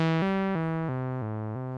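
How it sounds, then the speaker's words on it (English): Roland SH-101 analog synthesizer plays a short run of six descending held notes, each a bright buzzy tone whose filter opens only on the first trigger, so the sound gradually dulls and fades across the phrase, close and alone. "since we're having our filter modulated by the envelope, we'd only get the initial trigger of the envelope for the sound"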